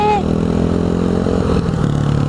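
A Can-Am Renegade 1000 ATV engine picking up throttle, a close, loud buzzing drone that rises sharply at the start and then holds steady and rough.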